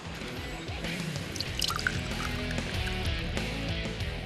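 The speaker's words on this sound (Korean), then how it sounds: "이 안에서 다슬기 그 진액들이 밑으로 똑똑 떨어지면서 이 받아낸 게 이제 다슬기 기름이에요" Marsh snail extract dripping down from an upper earthenware jar into oil collected below, made the traditional way, with soft irregular close drips and trickles over a quiet background.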